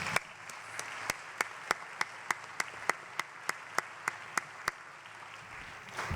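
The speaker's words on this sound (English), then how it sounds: "let's give a round of applause to our panelists" An audience applauds panelists at a Great Lakes policy talk: a soft, distant wash of clapping with one nearby pair of hands striking sharp, evenly spaced claps in a steady rhythm before fading out.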